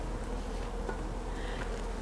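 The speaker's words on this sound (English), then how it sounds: "It's going to be a big loud cloud of bees, but they're not angry bees." A dense, steady drone of honey bees buzzing loudly and close as a package colony is poured out, a continuous cloud of wingbeat hum with no talk.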